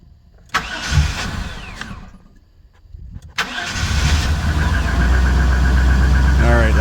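1997 GM truck with a 5.7 engine, troubleshot for a cold no-start, cranks in short bursts with pauses, then fires and settles into a loud, steady idle up close.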